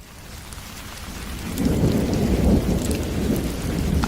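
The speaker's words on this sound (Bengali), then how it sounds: "আর ঠিক তখনই বাইরে প্রচণ্ড ঝড় বৃষ্টি শুরু হয়।" A cartoon thunderstorm at night: heavy rain swells in after a quieter start into a steady, dense downpour with deep, low rolling thunder underneath.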